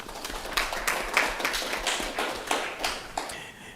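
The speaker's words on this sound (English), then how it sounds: "Big round of applause for Councillor Tidd." Scattered applause from a council meeting audience: a few dozen light, uneven claps, fairly faint and roomy, continuing steadily for several seconds without a clear rhythm.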